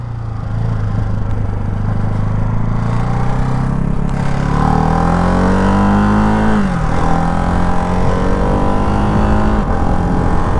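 A Ducati Hypermotard 698 RVE motorcycle engine revving loud and close, climbing through gears with quick-shifter changes that drop the pitch briefly before it pulls on steadily.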